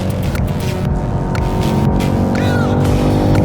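Race car engine held at full throttle in fourth gear through a left-hand bend on the Isle of Man road course, a loud, steady, close roar with a faint voice underneath.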